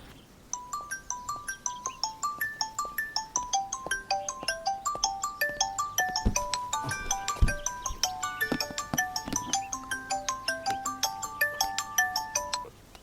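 A mobile phone plays a repeating melodic ringtone after a number is dialled, a steady cycle of bright chiming notes that goes on for many seconds, close and clear with no talk.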